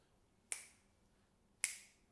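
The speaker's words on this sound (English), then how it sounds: "the next thing that we play is actually finger snaps" Two sharp, crisp finger snaps about a second apart, close and clean against a quiet background, each with a brief decay and no talking.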